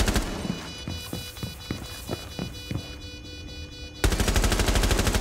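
Gunfire in the tactical shooter Rainbow Six Siege: a string of distinct shots pops at an uneven pace, then a dense, loud automatic burst takes over toward the end, with no talking.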